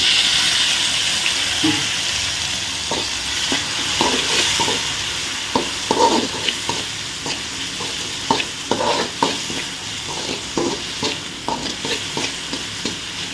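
Onions sauté in a pan with a continuous soft sizzle, broken by regular sharp clicks and scrapes of a stirring spoon against the metal, close and alone.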